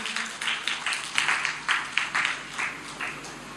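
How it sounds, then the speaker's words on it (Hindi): Audience applause at a mushaira poetry gathering in Ajmer, a steady wash of clapping from a seated crowd with rhythmic swells, moderately loud and continuous, with no talk over it. "और आपकी जोरदार तालियों के बीच"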